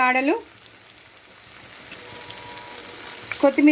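A tempering of coriander stems and mint frying in oil for a chutney, a steady soft sizzle in the middle of the clip, with a voice talking briefly at the start and end.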